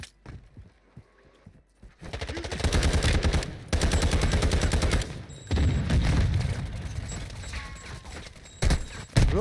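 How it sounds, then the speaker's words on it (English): Sustained automatic gunfire from a Call of Duty Warzone match, dense rapid bursts that start after a quiet opening, run loud for several seconds with short gaps, then return in a final burst. "I'm shooting at him and he's not moving."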